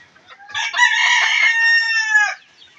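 A laying hen in a backyard coop near her nest of eggs gives one loud, sustained, harmonic call lasting about two seconds, close and clear with no talking.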